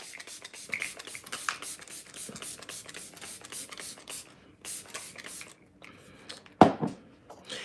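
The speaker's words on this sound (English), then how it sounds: "And I spray so much so that as it's drying, it'll suck everything in with it." Matte setting spray goes onto a face in many quick, hissing pump bursts. The sprays come in a steady rhythm, close to the mic, with a short pause near the end and then a louder bump.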